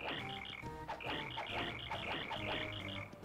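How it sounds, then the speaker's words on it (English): Cricket-like chirping sound effect for Mario's hammer attack in the video game Paper Mario: The Thousand-Year Door, rapid repeated high trills in short bursts over faint game music. "Sounds like a cricket."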